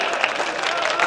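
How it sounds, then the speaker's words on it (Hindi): A Hindi comedy poetry gathering's audience claps, a brief, dense patter of many hands at moderate distance, heard alone. "ताली वाली बजाओ यार बड़े"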